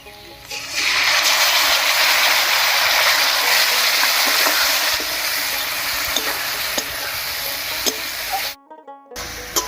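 Potatoes fry with garlic, onion, ginger, green chilli and tomato paste in a pan, a loud steady sizzle with stirring scrapes that eases off near the end, broken by a short gap.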